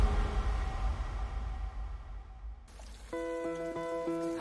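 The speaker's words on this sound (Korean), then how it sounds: "하늘에서 단비가 내렸습니다" Rain falls steadily over a wildfire-hit area in Uiseong, North Gyeongbuk, a continuous close hiss of drops with a faint tonal hum entering partway through.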